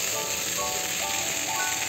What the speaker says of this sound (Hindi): मिक्सर जार में डाल के इसे पीस लूँगी।